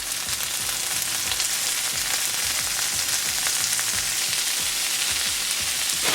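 Tofu and red pepper fry in a pan with a loud, steady, close sizzle that carries on without break.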